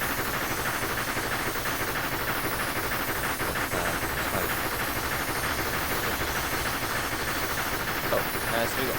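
Steam hiss and rail rumble from a GWR autotrain locomotive in Train Simulator on the Falmouth branch, a steady broadband wash of steam noise with track clatter running continuously at moderate level.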